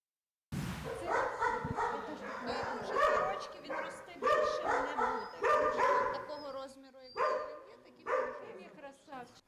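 Several dogs at a shelter for rescued animals bark and yip in a continuous chorus, loud and close, with some whimpering mixed in and no clear talk.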